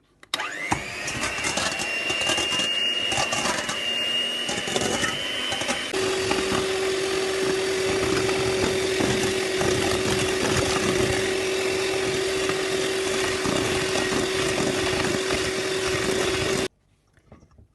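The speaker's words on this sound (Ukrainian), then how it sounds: "Збиваємо міксером, можна вінчиком, і поступово додаємо цукор." An electric mixer whips eggs with salt and sugar, giving a loud, continuous motor whine that shifts pitch partway through and then cuts off near the end.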